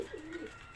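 Pigeons on a rooftop garden give a soft, low coo, a few rounded murmuring notes close by over quiet background, with no talking.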